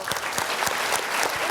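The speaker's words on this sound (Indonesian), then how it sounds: "Boleh kasih tepuk tangan." Studio audience on the Indonesian talk show I'M POSSIBLE with Merry Riana breaks into brief, energetic applause, dense clapping with a few sharper individual claps standing out.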